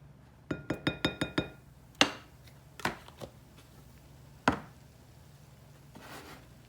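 Cornstarch and baking powder stirred in a bowl in a home kitchen, a quick run of six sharp clinking taps followed by a few scattered louder knocks against the bowl, close and crisp with no talking.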